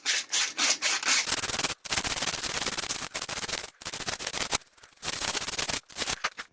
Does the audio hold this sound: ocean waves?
no